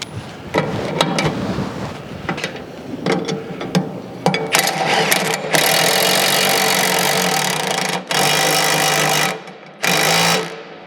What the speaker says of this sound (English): Then we're going to lock up the lock nut.